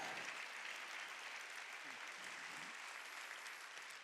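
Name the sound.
church congregation clapping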